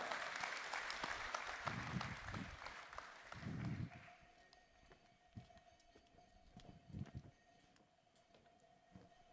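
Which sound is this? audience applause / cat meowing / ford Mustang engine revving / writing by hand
audience applause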